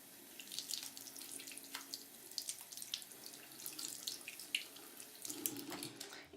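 Tap water runs to rinse shampoo from makeup brushes, a faint steady trickle and splash broken by small spattering changes as the bristles are worked under the stream.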